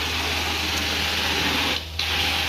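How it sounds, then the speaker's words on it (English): Prokin Everest truckmount carpet cleaning machine running with a steady, loud mechanical drone and hiss, briefly dipping near the end before resuming. "Prokin Everest is the name of the machine, and my original setup has 13 inches of lift"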